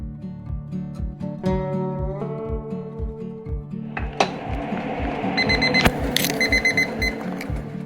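A kitchen timer goes off after eggs are boiled for soft-boiled eggs with toast, its repeated ringing pulses sounding close and loud, with clattering kitchen noise building toward the end.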